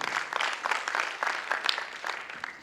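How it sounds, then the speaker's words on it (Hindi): A burst of audience applause for a speaker at a business event, steady mid-volume clapping from a crowd lasting a couple of seconds, with no voices over it. "सर के लिए एक जोरदार तालियां होनी चाहिए"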